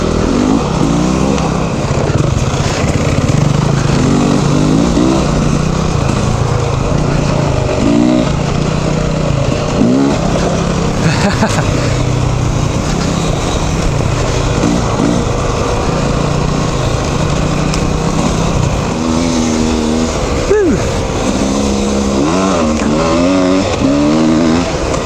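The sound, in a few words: motorcycle riding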